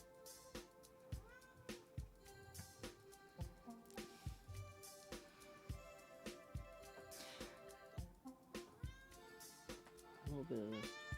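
A house cat meows repeatedly in a domestic room, short cries scattered over soft background sounds, while a person talks throughout.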